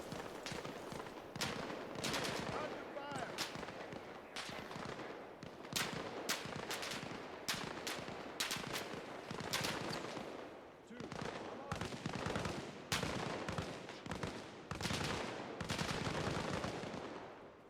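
Video game machine gun fire in repeated sharp bursts, dense automatic rattles separated by short gaps through the whole stretch, fairly close and loud, with little talk over it.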